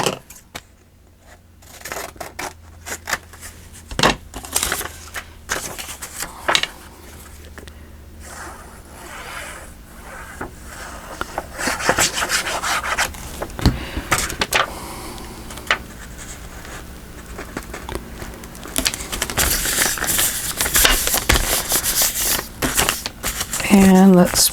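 Scissors cut through paper along a red line in a craft session, with crisp snips, rustling and handling noises at close range, and a person talking over and between the cuts.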